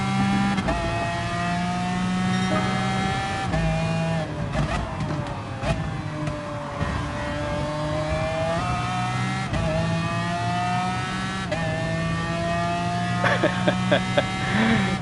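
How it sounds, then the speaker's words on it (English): A BMW V12 engine revs loudly and steadily in the racing game GT Sport, its harmonic drone rising and falling with gear changes throughout, with brief sharper bursts near the end. "you just want to hear the V12 engine of the BMW"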